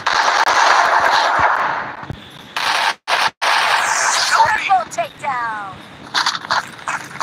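Rapid gunfire from Free Fire, the mobile battle royale game, in a Clash Squad match: loud automatic bursts and scattered single shots, broken by short gaps, with voice-like sounds underneath.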